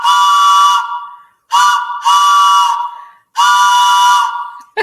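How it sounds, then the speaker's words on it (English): A Mickey's Runaway Railway toy train whistle blows in four loud, close, steady toots of differing length with short gaps between, alone without talk. "It's the Mickey's Runaway Railway train whistle"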